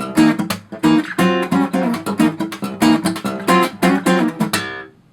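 Acoustic guitar playing measures 12 and 13 of a song, with a slide connecting the two measures; rhythmic plucked and strummed notes at close range, played alone without talk.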